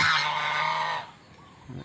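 A loud, nasal honking call from a goose rings out up close for about a second, followed by a brief pause and the start of a turkey's answering call.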